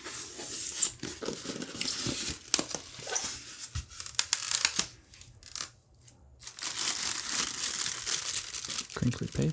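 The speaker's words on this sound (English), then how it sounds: "Crinkly paper." Crinkly paper rustles and crumples close up as a figure from The Dark Crystal is unboxed, a dense, crisp crackling that pauses briefly and then resumes, with no voice over it.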